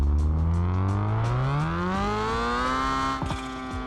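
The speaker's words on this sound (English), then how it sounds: "Oh, it sounds so good with the custom exhaust." Car with a custom exhaust in the BeamNG racing game, revving hard on a raceway with a loud, rising engine note climbing through a pull before a brief shift dip near the end, no voices.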